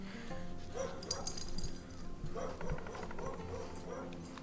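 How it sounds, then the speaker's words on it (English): A neighbor's dog barks and yips at a distance in a garden setting, faint, irregular calls over quiet background with occasional clinks. "The neighbor's crazy dog is"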